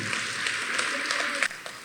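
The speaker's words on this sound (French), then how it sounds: "Merci de l'applaudir encore une fois pour ce discours majestueux" Audience at a graduation ceremony applauding after a speech, a brief, dense patter of clapping with a few sharper claps standing out near the end, blended with faint crowd murmur.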